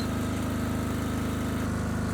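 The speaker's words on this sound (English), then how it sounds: "Listen to the engine. It doesn't even flinch." A 5 kW BISON diesel generator runs under load with an electric kettle plugged in, giving a steady, loud engine drone with a constant low hum and no change in pitch throughout.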